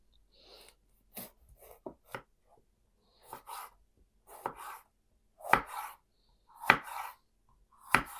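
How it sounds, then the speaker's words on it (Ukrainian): Knife chopping bell pepper on a cutting board while making liver crepes, a series of sharp, spaced cuts close by, growing louder toward the end, with no talking. "Так само наріжу перець."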